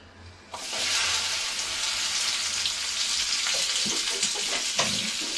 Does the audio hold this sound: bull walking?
no